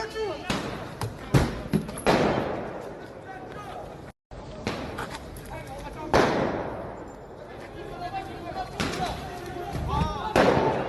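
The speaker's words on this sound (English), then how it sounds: "Fireworks are being used as weapons" Fireworks crack and boom repeatedly during street riots in France, sharp bangs scattered irregularly over a noisy crowd with shouting voices.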